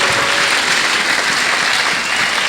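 A church congregation applauds in a loud, dense, continuous wash of clapping that holds steady throughout, with no distinct voices above it.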